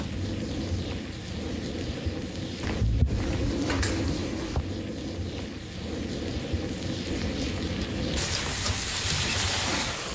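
Katana forge fire burning at a heat where the steel does not melt but throws off its impurities: a dense, continuous crackling and sputtering roar with scattered pops and low rumbling, close and steady, intensifying toward the end.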